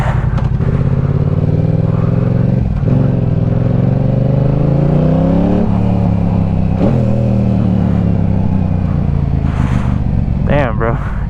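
A Yamaha R7 motorcycle is ridden and accelerated hard, its engine climbing through repeated revving pulls with brief drops between gears, loud and close with wind noise throughout.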